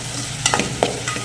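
Green chillies, slit lengthwise, fry in hot oil for garlic kuzhambu, a close sizzle with quick spatula stirs and scrapes in a short burst, no voices.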